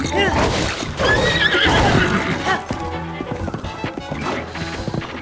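A horse in the video game The Legend of Zelda: Breath of the Wild neighs loudly and clip-clops with rapid hoofbeats during a mounted fight, with crashing hits and a voice talking over it.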